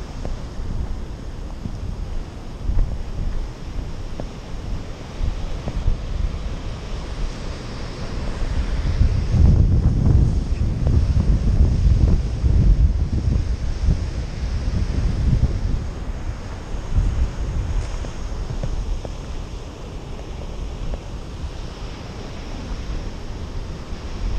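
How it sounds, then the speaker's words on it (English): Strong wind buffets a GoPro microphone at Guincho Beach, a loud continuous rumble that swells in the middle, with ocean surf faintly underneath. "I hope the wind isn't too loud on the GoPro"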